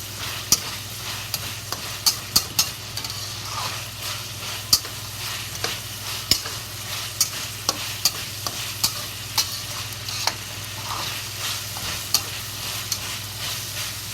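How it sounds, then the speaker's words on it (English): Ginger, green onion and garlic stir-fry in a wok, with a steady sizzle broken by scattered sharp clinks and scrapes from the spatula. "And slowly fry until the ginger, green onion, or scallion, or garlic really good smell."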